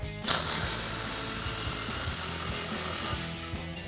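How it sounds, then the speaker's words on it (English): Someone tightens an exhaust clamp with a ratchet and 16mm socket, producing a rapid, even run of close metallic clicks over a steady mechanical background. "we'll grab that 16mm socket again. Tighten down our clamp."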